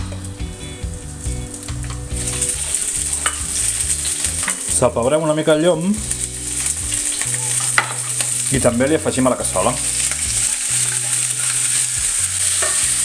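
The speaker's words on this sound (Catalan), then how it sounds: "quan l'oli sigui calent hi tirarem les salsitxes" Sausages sizzle steadily in hot oil in a casserole, with occasional stirring and scraping while a voice talks over it.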